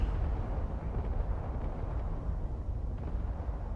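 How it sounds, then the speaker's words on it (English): Secondary explosions in a video game rumble as a continuous heavy low roar with dull bursts rolling one into another, loud and sustained throughout. "looks like secondary explosions going on over there"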